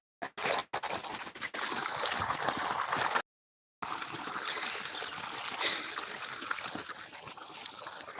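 Water trickling and streaming along an irrigation channel through a spinach field, a steady close babble broken by a few sharp clicks near the start and a brief dropout midway.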